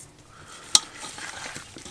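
Salted raw meat is stirred quickly while cooking in a cabin in the taiga, with faint soft scraping and one sharp utensil clink partway through.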